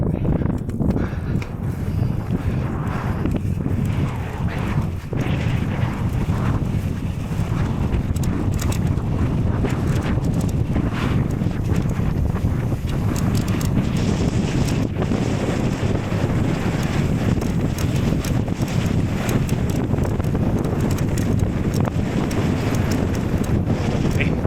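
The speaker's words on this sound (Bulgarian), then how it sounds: "Това вятър. Може да ме отклонява от курса." Wind blowing hard and steadily on a mountain climb up Triglav, buffeting the microphone with a constant loud roar and no talk.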